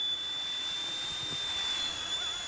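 A small, cheap XK WLtoys K127 RC helicopter flies outdoors in wind, giving a thin, steady high-pitched motor whine over soft wind noise, fairly faint and without talk.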